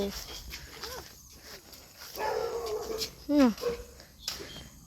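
A village dog by the Mekong riverbank yelps and whines in short bursts, fairly close, mixed with a person talking over rustling outdoor background.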